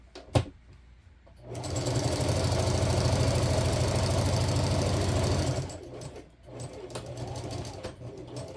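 A sewing machine stitches a quilted rice bag heat pad in one loud, steady four-second run close by, bracketed by clicks and light handling noise.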